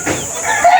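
Chickens cluck and squawk close by in a short, loud burst, with a quick rising call near the end.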